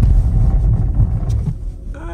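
A Chevrolet Bolt EV accelerates on a snowy, plowed road, giving a low, steady rumble of the car and road noise that eases slightly near the end.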